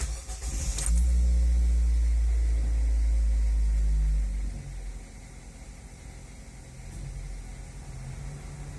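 A car engine with its air conditioner running, on a Mazda FP engine after a camshaft swap: a loud low drone and hum that swells heavily for a few seconds, then settles into a steady quieter idle with a faint whirring blower.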